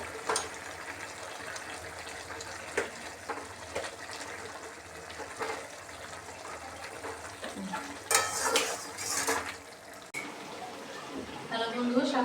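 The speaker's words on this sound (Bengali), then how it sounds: "এই দেখুন এখন আমি মাছটা দিয়ে দেবো। ভেজে রাখা মাছগুলো দিয়ে দেবো।" Pieces of fried Bata fish going into a pan of simmering pumpkin greens and stalks, bringing steady sizzling, stirring scrapes and utensil clinks, with a louder burst of clatter partway through.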